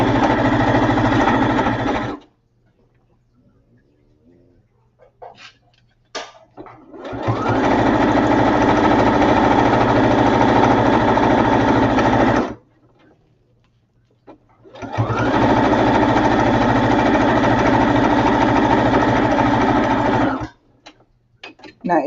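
A sewing machine runs in three long bursts of rapid, steady stitching, close and loud, separated by quiet pauses with light handling clicks.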